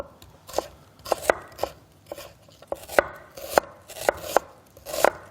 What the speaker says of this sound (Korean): 이거는 그냥 채 썰어 주시면 돼요